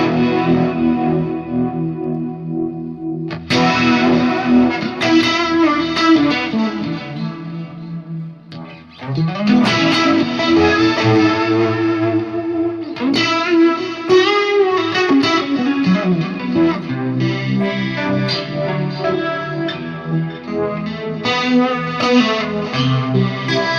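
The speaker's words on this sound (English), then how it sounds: "Activate the pitch, and also you can select different pitch channel to have more detune effects." Distorted electric guitar through a Fractal amp modeler using the MF Bogfish preset, based on a Bogner Fish tube preamp, with pitch detune added, playing a loud continuous riff with a short break near the middle.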